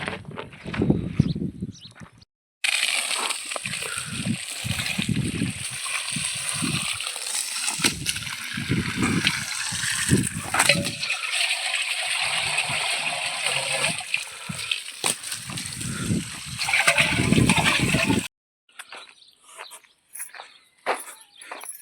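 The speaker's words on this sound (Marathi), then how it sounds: "मोटर चालू केली पाणी भरून घ्यायचं माठात" Steady gushing water from a motor pump pours into a clay pot for most of the stretch, with intermittent low thumps and sloshing; quiet movement sounds before and after the flow.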